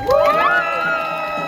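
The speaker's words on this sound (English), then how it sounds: "A big round of applause for Ace for his words." A rally crowd in Cardiff's Canal Quarter breaks into cheers and applause. High whooping voices swoop up over a dense, steady bed of crowd noise for a moment.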